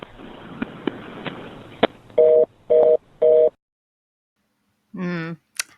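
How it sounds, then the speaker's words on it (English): Telephone call tones: a few faint clicks, then three loud, evenly spaced beeps, a pause and a brief warbling ring near the end. "the phone call"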